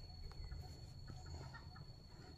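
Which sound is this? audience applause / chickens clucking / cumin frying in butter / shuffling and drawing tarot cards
chickens clucking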